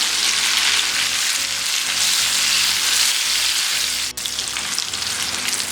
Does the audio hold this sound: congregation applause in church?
no